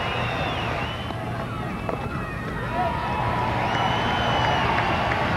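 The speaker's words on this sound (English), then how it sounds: "And the crowd give very warm applause." A cricket crowd at a 1998 South Africa versus Pakistan Test match applauds and cheers a batting shot, a broad, sustained wash of clapping and voices heard from a distance.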